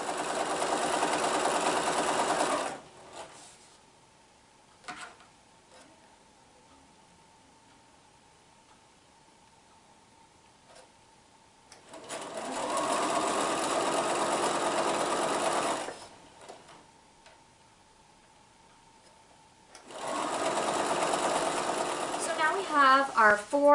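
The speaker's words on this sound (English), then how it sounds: "So let's sew those pieces together" A sewing machine stitches quilt block pieces together in three long, steady whirring runs separated by quiet pauses, with a voice briefly heard at the end.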